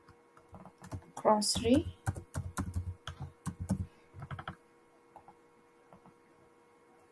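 Typing on a computer keyboard during a Figma design session, with a quick run of close, clicky keystrokes under a person talking, trailing off into a few scattered taps.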